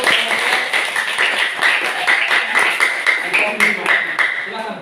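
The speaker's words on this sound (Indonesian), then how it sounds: "tepuk tangan untuk" A classroom group claps steadily after a student group presentation, with a dense, even patter of many hands at close range and faint voices mixed in.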